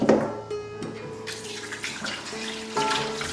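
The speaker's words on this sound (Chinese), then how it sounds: "抓捏一下之后呢，用清水再冲洗干净。" Pork ribs are rinsed under running tap water in a kitchen, giving a steady close splashing rush with brief clinks and shifts as the meat is handled.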